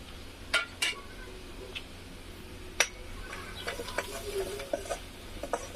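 A spoon stirs red chilli powder, turmeric, coriander powder and salt into vegetables in a pot for chivai bhaji, with a few sharp scrapes and clinks of metal against the pot over a faint background, no talking.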